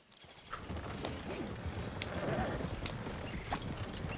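Horse hooves clip-clopping in the video game Red Dead Redemption 2, moderate steady footfalls with a faint whinny, heard at low level.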